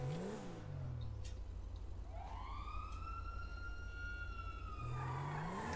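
A police siren in the game FiveM wails, one long rising and falling tone that swells and fades over a steady low engine rumble, with no voices.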